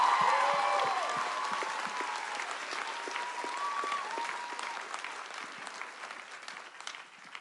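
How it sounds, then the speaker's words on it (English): Convention crowd at a Supernatural fan panel in San Francisco applauding in a large hall, a loud burst that settles into sustained clapping with a few whoops, gradually thinning out. "So just a round of applause for those people."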